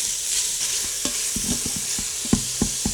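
Italian sausage browns in an Instant Pot pressure cooker with a constant close sizzle, broken by several scraping knocks of a utensil stirring the meat against the pot.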